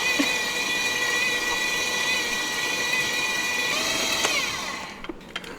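Electric mixer whirring steadily through cookie dough, a close mechanical hum with a constant motor whine that shifts slightly near the end and then winds down, no speech.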